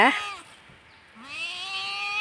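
A cat meows twice nearby, a short cry at the start and then a longer, drawn-out rising meow after a brief quiet gap, clear and alone.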